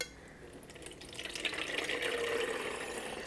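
Homemade gravy broth is poured back into a container, a steady liquid stream that grows fuller and louder as it goes, with a soft gurgling fill and no talking.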